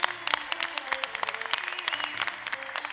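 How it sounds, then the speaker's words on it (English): Dense, steady applause from a conference audience at a startup demo day, many hands clapping close and loud for the full length without pause. "A round of applause. Please come up to the stage."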